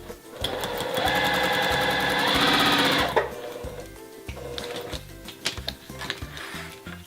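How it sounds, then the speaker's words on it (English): A sewing machine stitches the long edge of a fabric triangle: a loud, continuous rapid mechanical whir for about three seconds, followed by quieter fabric handling and knocks. "The part I'm going to sew is the long edge of the triangle."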